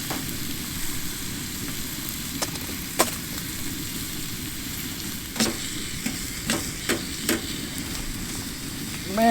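Steak, peppers, onions and mushrooms fry on a hot tent wood stove at a forest campsite, with a steady sizzle broken by several sharp scraping stirs.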